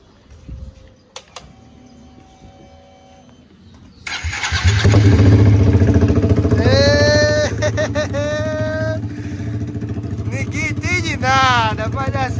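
A Honda Start 160 motorcycle with a straight-through exhaust starts up after some quiet clicks, then idles loudly and close with a deep steady rumble while people talk over it and a sharp whine rises repeatedly.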